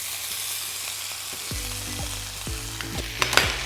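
Greens sizzling in butter in a hot pan, a steady frying hiss with stirring and utensil scrapes rising toward the end, no voices.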